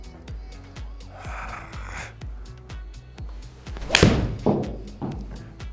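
TaylorMade P790 Ti iron striking a golf ball on a range, a single sharp near impact cracking out over a busy background of repeated thuds and low noise, with a fainter follow-on rustle after.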